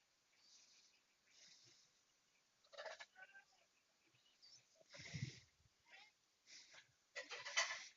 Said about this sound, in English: You might hear meowing in the background.